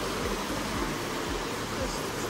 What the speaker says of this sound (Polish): Ale ładna górska rzeka.